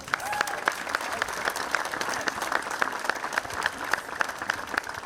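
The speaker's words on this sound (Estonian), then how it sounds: "aplaus neile palun" Applause at the opening of the Alexela Arena, a crowd clapping steadily with distinct sharp claps standing out, moderately distant, with a voice briefly heard at the start.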